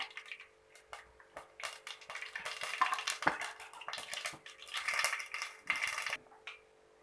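A tablespoon of mustard seeds splutters in two teaspoons of hot coconut oil in a pan, giving a dense, irregular crackle of sharp close pops that builds and fades over several seconds.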